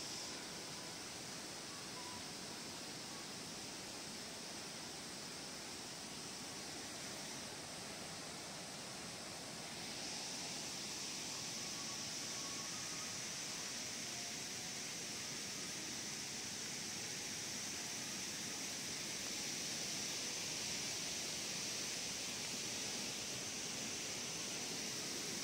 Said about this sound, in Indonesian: air terjun. Ih, gila itu.